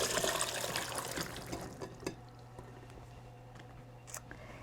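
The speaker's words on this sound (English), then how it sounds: "I will rinse them in the sink for just a minute." Water runs into a kitchen sink while soaked walnuts are rinsed, a splashing, hissing stream that is loudest at first, then drops to a quieter trickle with a few drips and clatters.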